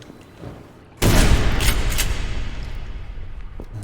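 A shotgun fired in a video game, one loud sudden blast after a quiet moment, followed by a long rumbling decay.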